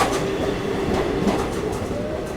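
The Rewanchal Superfast Express passes at Satna Junction with a steady, loud rolling rumble of coaches over the rails, faint wheel squeal and clatter, and no talking.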